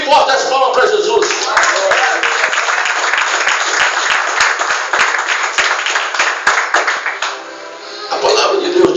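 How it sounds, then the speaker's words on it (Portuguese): A church congregation claps loudly and steadily in rhythm during a worship service, with dense applause filling nearly the whole stretch before easing slightly near the end. "Bem forte as palmas para Jesus."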